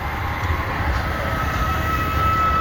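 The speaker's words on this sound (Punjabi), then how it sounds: "ਇੱਕ ਟ੍ਰੇਨ ਆ ਗਈ ਛੋਟੀ ਜੀ" A small train rumbles past close by, a steady rolling drone with a thin metallic whine above it.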